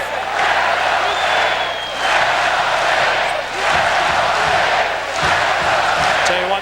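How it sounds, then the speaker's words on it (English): A basketball arena crowd at a WAC Tournament championship game roars loudly and continuously, swelling and dipping in waves, with a commentator's voice faintly underneath. "the crowd's not going to let us hear him"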